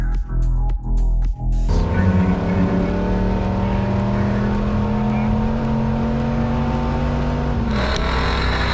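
A turbocharged 1988 Buick Electra station wagon with roughly 500 horsepower starts with a few short engine blips, then roars into a loud, sustained acceleration with a rising engine note, heard up close.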